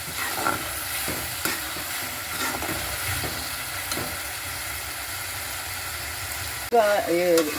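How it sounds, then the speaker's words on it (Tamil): Onion, tomato and masala frying in a pan for a bitter gourd kootu, a steady sizzle with repeated stirring scrapes, then a brief burst of voice near the end. "வெங்காயம் தக்காளி பழம் மசாலா நல்லா வறுபட்டு வருது"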